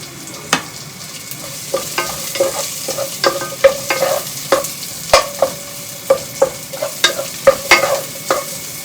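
Onion, carrots and cabbage are stir-fried in a pan, with a bed of hissing sizzle broken by a quick, uneven run of sharp spatula clacks and scrapes against the metal, close and lively.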